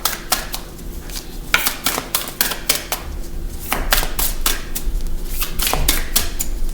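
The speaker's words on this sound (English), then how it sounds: "I want to really shuffle." Tarot cards being shuffled by hand at close range, a run of quick crisp riffling bursts and soft slaps that come in irregular clusters over several seconds.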